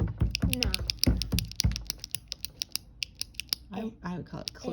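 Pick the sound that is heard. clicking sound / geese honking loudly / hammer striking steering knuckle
clicking sound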